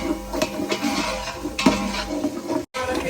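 Finely chopped onion and cumin roast in a pot over a wood-fired stove, giving a low sizzle with scraping stirs and a couple of sharper pot knocks, close by and without talk.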